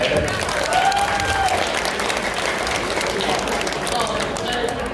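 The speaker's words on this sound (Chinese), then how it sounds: "再来一次掌声鼓励" Audience applause fills a community hall at a Taiwanese association's 50th anniversary gala in Northern California, steady and loud throughout with a crowd murmur beneath it.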